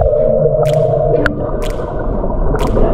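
Whale calls play through an underwater speaker in a resort pool, heard as muffled, watery tones with a few sharp rising squeals spaced apart over a bubbling, gurgling underwater wash.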